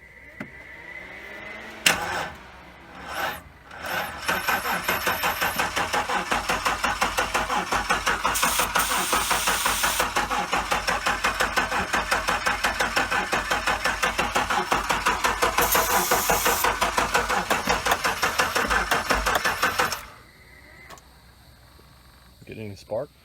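A small LQ Mino engine cranks loudly and steadily for about fifteen seconds with a rapid, even rhythm, close to the microphone and without firing, before it abruptly stops; brief voices can be heard before and after.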